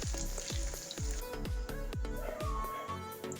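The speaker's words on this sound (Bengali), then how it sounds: "আমি এখানে একটা ভাজা দিয়ে উঠিয়ে নিচ্ছি।" Chicken pieces fry in oil for a restaurant-style cashew nut salad, a steady close sizzle punctuated by regular clinks roughly twice a second, as if a utensil strikes the pan.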